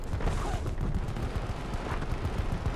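Rapid gunfire from a weapon in a video game, a dense run of quick shots, loud and continuous throughout.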